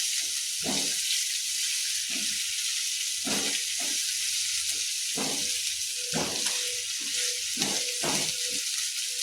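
Garlic sautéing in a pan, a steady loud sizzle and hiss throughout, broken by repeated scraping stirs of a utensil at irregular intervals, close up, with no talk.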